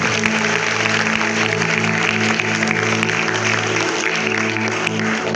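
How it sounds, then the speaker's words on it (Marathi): Students at a school Yoga Day event keep up sustained clapping, a thick, even roar over a low steady hum that stays loud from start to finish. "त्याबद्दल विद्यार्थ्यांनी आपल्यासाठी टाळ्या वाजवायच्या आहेत."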